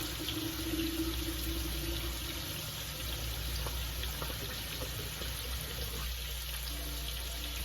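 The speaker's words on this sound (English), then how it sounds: "and fill up my jug of water," Water from a kitchen tap running into a jug, a steady continuous splashing rush that shifts slightly in tone as the jug fills, with no one speaking.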